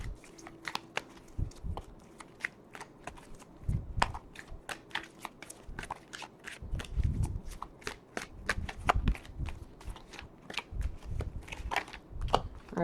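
Tarot cards shuffled by hand, a run of quick crisp riffling flicks and soft slaps, close and fairly quiet, growing denser and busier toward the end with no talking over it.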